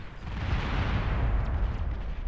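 A bombing run in the Beyond All Reason strategy game sets off a dense, continuous rumble of overlapping explosions, loud and low for a couple of seconds with no talk.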